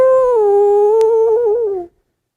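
A single long, wavering dog howl, clear and close, holding a steady pitch before sliding down and cutting off into silence.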